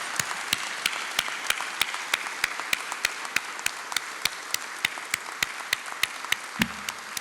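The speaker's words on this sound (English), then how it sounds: "give a big, big applause for the graduates" A convocation audience stands and applauds the graduates with steady, dense clapping throughout, punctuated by sharp, evenly spaced louder claps like rhythmic beats, moderately loud and without talk.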